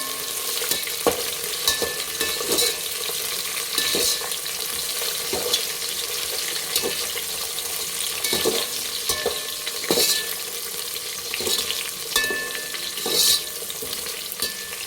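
Continuous sizzling of mutton curry frying in a pan, with repeated scraping and stirring strokes throughout.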